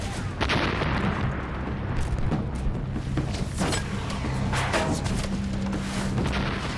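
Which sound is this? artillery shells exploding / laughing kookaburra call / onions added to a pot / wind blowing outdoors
artillery shells exploding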